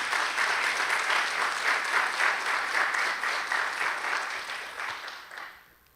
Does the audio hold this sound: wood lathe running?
no